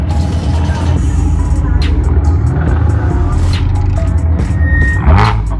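A loud car revs hard at a car meet: a deep, close engine rumble that rises and falls in bursts, with crowd noise around and a brief higher tone near the end.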